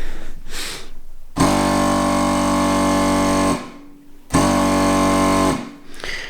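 A Smart electric car's vacuum pump hums loudly in two sustained bursts, each starting abruptly and cutting off after a couple of seconds, with a short quiet gap between.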